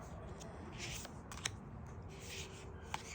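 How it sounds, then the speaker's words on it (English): A deck of cards is being shuffled by hand, with soft riffling bursts and a couple of sharp snaps from the cards, faint and close up. "I'm learning to shuffle it"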